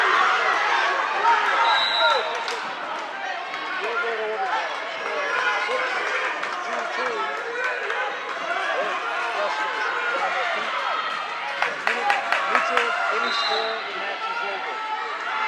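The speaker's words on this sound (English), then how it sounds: "You can hear the crowd." Crowd at a high school wrestling quad meet murmurs and cheers steadily in a gym, with a commentator talking over it and scattered claps, thumps and footfalls.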